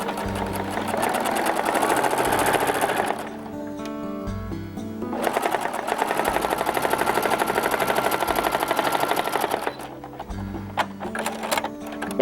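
A sewing machine stitches down fabric for a porch-project handle in long steady runs, a fast even mechanical chatter that stops briefly twice between passes, close and loud.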